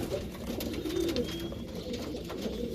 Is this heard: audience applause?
no